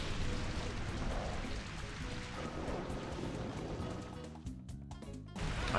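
Steady rain weather effect in the Pokemon Grand Colosseum battle, a dense continuous hiss of falling rain with low rumbling and game music layered underneath, holding at an even level throughout.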